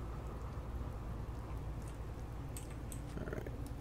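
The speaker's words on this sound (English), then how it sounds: "Oh, and it's also raining now." Rain falls steadily in the video game Fallout 4, a constant soft hiss of drops throughout with a few faint clicks near the end, quiet and without speech.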